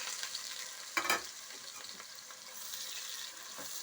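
Sliced onions dropped into well-heated oil for fried onions, for a hotel-style veg dum biryani, give a sharp burst of sizzling, then a steady bubbling fry that stays fairly close and even, with no talk.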